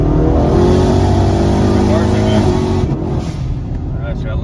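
Ford Mustang EcoBoost with a failing fuel injector, engine pulling hard under acceleration, then briefly stumbling and dropping off near the end, with a voice talking over it.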